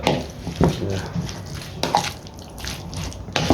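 Mayonnaise being stirred into a pizza puff filling in a bowl, soft wet squelching and a few spoon clinks against the side, fairly close, with someone talking over it.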